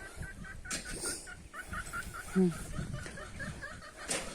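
Chickens cluck in short repeated bursts close by, with a rooster's throaty call mixed in and a person talking quietly underneath.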